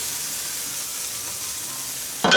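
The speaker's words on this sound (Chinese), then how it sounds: "再把鱼肉一下放下去了，煮起烧起后要小火小火的烧哈" Fish pieces drop into a pot of simmering spicy Sichuan-style broth laid over pea shoots, giving a steady bubbling sizzle that ends in a sharp splash as they go in.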